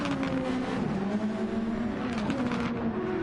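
Race cars in the Gran Turismo 7 video game drone along steadily with a sustained engine tone that dips and rises through gear changes, continuous and fairly loud without any talk.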